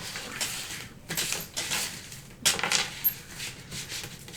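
Tarot cards being shuffled by hand, a series of close, soft riffling and slapping bursts separated by short pauses.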